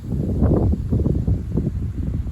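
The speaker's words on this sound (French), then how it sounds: "Une bonne rafale de vent." Strong south-east wind gusting at night, a deep low roar buffeting the microphone in uneven surges, close and rumbling with no voices.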